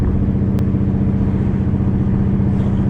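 A vehicle engine with an idle chop mod idles steadily and loudly up close, a lumpy, uneven low rumble holding throughout with no revving.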